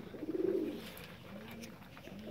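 Domestic pigeons coo in a low, rolling burst that swells early and then fades into softer murmuring, fairly close and alone.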